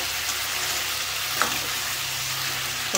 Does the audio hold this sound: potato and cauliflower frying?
yes